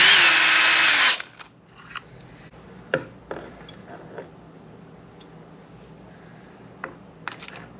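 A power drill spins out screws on the cover of a Traxxas X-Maxx Ultimate 8S RC truck: one loud, steady whir lasting about a second, followed by quieter clicks, taps and handling noises.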